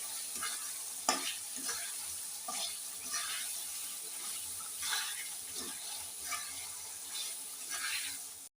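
Hilsa fish heads frying in a spice mix, a constant quiet sizzle broken by repeated stirring scrapes at a steady pace, fairly faint and close.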